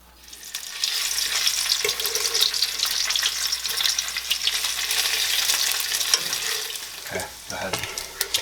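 About four strips of bacon fry in a pan, a close, dense sizzle rising after the first second and crackling on steadily, broken near the end by a few stirring scrapes and knocks.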